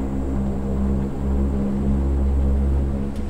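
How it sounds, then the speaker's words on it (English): A Convair CV-580 turboprop airliner rolls down the runway for takeoff, its engines giving a steady, loud propeller drone with a low throbbing hum heard from inside the cockpit. "we are cleared for takeoff"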